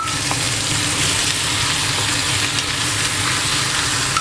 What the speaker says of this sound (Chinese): 把海带放进去一起炒一下。